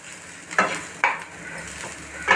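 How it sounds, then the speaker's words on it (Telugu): Cabbage, tomato, carrot, capsicum and onion tossed into a hot pan for chicken noodles, giving a few distinct stirring scrapes and sizzling bursts over a steady low fry. "క్యాబేజీ వేస్తున్నాను నేను."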